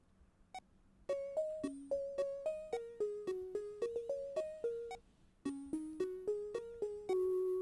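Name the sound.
plonky background part on Sonicware Liven 8bit Warps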